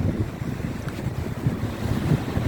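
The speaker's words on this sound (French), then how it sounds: "Donc il y a eu beaucoup de vent aujourd'hui." Steady, blustery wind roars over the microphone by the sea at Saint-Denis, Réunion, with a low rumbling wash that sounds like surf in the background.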